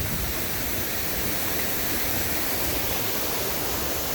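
A waterfall pours into a flowing stream, a dense, steady roar of rushing water filling the scene, loud and close, with no voices.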